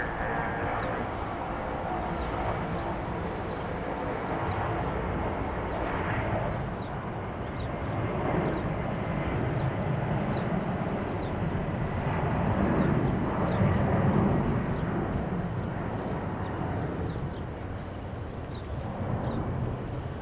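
An aging Boeing 767-200 airliner taking off, its old engines giving a steady, loud, broad roar that holds throughout, with no talk over it.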